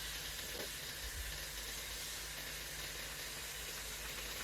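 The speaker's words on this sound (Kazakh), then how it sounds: "Отымыз орташа баяу отта қуырамыз" Salted meat fries in a pan over medium-low heat, giving a steady, even sizzle and hiss with no talking throughout.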